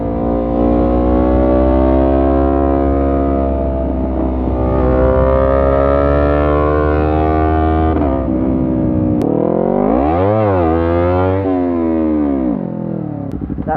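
A 2017 Honda CBR250RR motorcycle engine revs loud and close, holding steady high revs before a sharp throttle change into rising and falling rev sweeps as the bike pops a wheelie.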